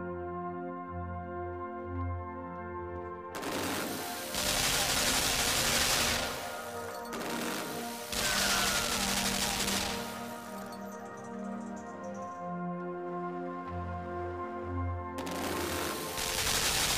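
Bursts of machine gun fire in the side-scrolling puzzle game Limbo, loud blocks of rapid gunfire repeating over a steady tonal backdrop, with quieter gaps between the volleys.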